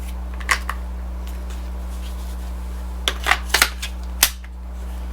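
Scattered clicks and snaps of rounds being loaded and a magazine locking in, a few quick clacks in a cluster near the end, over a low hum.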